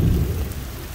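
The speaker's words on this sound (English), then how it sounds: "It's a little rain, don't worry about it, Enzo." Rain falls steadily in a short burst of dense, low rumbling patter, close and moderately loud, with no voices.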